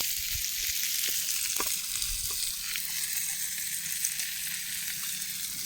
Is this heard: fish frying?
yes